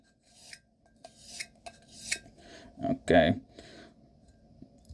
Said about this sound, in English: when I'm actually sharpening, and I do in-hand sharpening